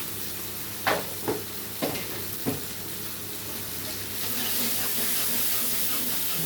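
Potato papad with chili powder sizzles in hot oil as it is sautéed, with a few sharp scraping strokes early on and then a steadier hiss that swells slightly.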